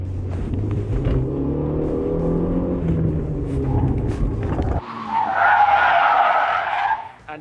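A budget hot hatch slides through a handbrake turn, tyres skidding loudly and continuously for several seconds with the engine droning underneath, then a sharp high tyre squeal as the car swings around.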